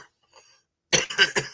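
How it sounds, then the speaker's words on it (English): A man lets out a short burst of three or four close, sharp coughs after a brief quiet moment. "I'm slightly coughing to death here"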